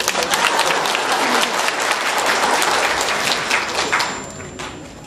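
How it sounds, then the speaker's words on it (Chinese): Audience applause at a live Q&A session in Los Angeles, a loud, dense burst of clapping that holds steady for about four seconds before beginning to fade. "鼓掌。"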